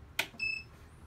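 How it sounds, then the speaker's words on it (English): A Graphtec CE6000 vinyl cutter beeps once on startup during a factory reset, followed by a short higher tone, both brief and clear against a quiet background. "You'll hear the two beeps."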